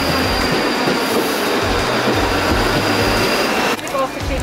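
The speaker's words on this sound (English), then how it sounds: "This is the train." A train rumbling through a railway station in Glasgow, with steady loud rail noise, wheel clatter and a faint high squeal near the end, as a voice talks over it.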